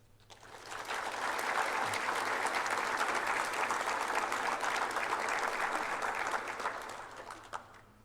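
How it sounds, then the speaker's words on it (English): An audience at a fire department pinning ceremony applauds, the clapping building quickly, holding as a dense sustained round for several seconds, then tapering off. "Would you join me in a round of applause for our chiefs, county admin, and our county commission"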